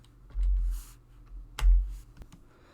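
A few keystrokes on a computer keyboard while answering a switch setup prompt, heard as two soft muffled thumps and a sharp click, fairly close and quiet, with no talking.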